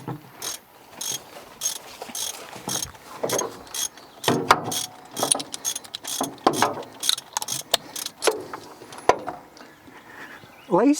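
Wrench ratcheting on the spark plugs of a 1971 Ford Mustang left abandoned for 25 years, a close run of quick metallic clicks and turning noises coming in irregular bursts.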